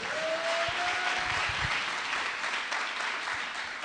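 A church congregation applauding, dense continuous clapping that fills the room at a steady level throughout, with a few low thumps underneath.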